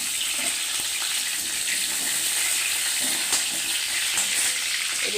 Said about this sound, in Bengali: এবার এই তেলটাতেই আমি বিরিয়ানির যে আলুগুলো সেগুলো ভেজে নেব